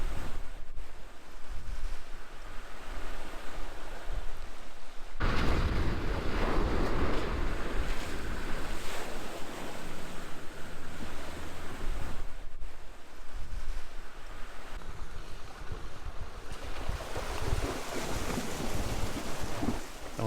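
A Land Rover fords a river in Otago near Macetown, with continuous rushing water and wind noise, the splashing surge swelling louder mid-clip and again toward the end.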